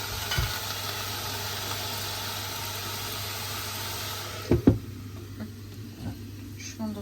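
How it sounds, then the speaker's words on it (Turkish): Tomatoes go into a hot frying pan for menemen, set against a steady sizzle and hiss, and a couple of sharp clatters from the pan or utensil land partway through as the frying quiets. "Bu arada onun suyunu eklemeden şuraya domatesleri ilave edeyim."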